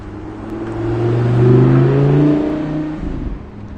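A Lamborghini engine revs outdoors near 29 Palms, a loud sustained mid-range roar that swells to a peak around the middle and then eases off as the car passes.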